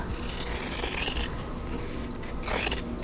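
Scissors snip through quilt block fabric along a drawn line in two close, crisp bursts of cutting, a longer run followed by a shorter one after a brief pause.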